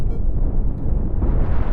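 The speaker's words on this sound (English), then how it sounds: "The big cannons are opening up." Heavy cannons fire in a Cosmoteer fleet battle between Republic and Separatist ships, a dense rumbling barrage of overlapping booms and bursts that stays loud throughout without a break.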